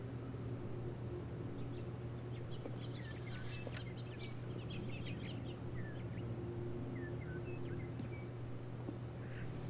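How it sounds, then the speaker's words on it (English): Birdsong in the video game The Stanley Parable: scattered high chirps and whistled calls sit over a steady ambient hum and background music. "The sound of birds."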